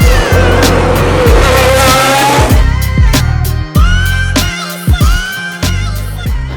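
Formula One race cars at the Abu Dhabi Grand Prix on Yas Island, very loud engines screaming past at close range, with a long sustained roar followed by several sharp pass-bys and downshifts.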